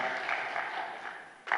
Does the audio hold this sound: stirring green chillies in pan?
no